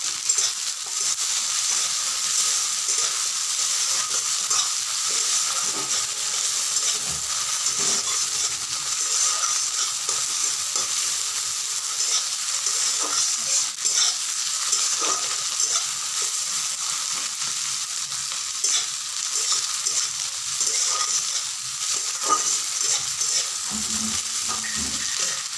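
Chopped tomato and green chilli fry in a pan with a constant bright sizzle and hiss, broken by occasional clinks and stirring scrapes, close and even for the whole stretch with no talk.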